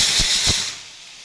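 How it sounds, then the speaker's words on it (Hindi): A pressure cooker releases a loud, broad hiss of escaping steam in two quick pulses, then fades to a softer lingering hiss. "कुकर बहुत आवाज़ कर रहा है।"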